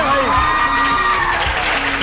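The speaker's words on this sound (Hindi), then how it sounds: "तालियां बजाएं भाई।" A school audience at a quiz show applauds in a loud, dense burst of clapping mixed with cheering and crowd noise, sustained evenly through the short stretch with voices audible underneath.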